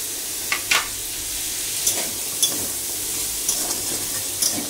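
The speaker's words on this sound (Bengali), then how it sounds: "এটা পুরো ভাজা ভাজা করে নেব।" Green chillies, ginger, garlic and cashews fry in hot oil with a steady sizzle, while a spoon stirs and scrapes the pan in several distinct clinks and strokes.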